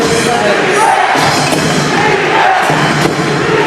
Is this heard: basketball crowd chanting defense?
yes